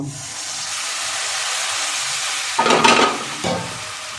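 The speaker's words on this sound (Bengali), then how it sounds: "একটু নাড়িয়েই আমি একটু জল দিয়ে দেবো, সামান্য জল দিয়ে মশলাটা আর একটু কষিয়ে নেব।" Ground spices fry in a pan and a little water is added: steady low sizzle, then a sudden louder hissing burst of steam followed by a shorter second surge, close by, no talking.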